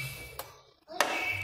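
A car coolant hose fitting pressed into place with a sharp plastic click, with a fainter tap just before it, close and quiet in a workshop.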